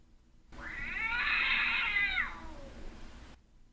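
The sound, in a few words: cat meowing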